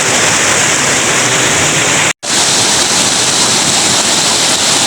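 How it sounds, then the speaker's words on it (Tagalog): River water at Barangay Gabas, Buhi, Albay in Bicol rushes in a steady, loud broadband wash throughout, briefly cut off near the middle before resuming unchanged. "Yan ang sounds ng ilog ng Gabas."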